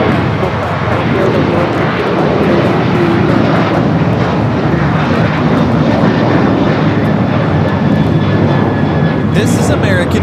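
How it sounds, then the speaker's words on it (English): An American Airlines Boeing 737-800 takes off from LAX, its jet engines producing a loud, continuous, close roar that barely varies for the whole span. "2730 taking off to Nashville, Tennessee on the 737-800"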